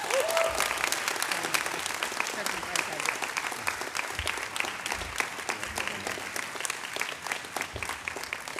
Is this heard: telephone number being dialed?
no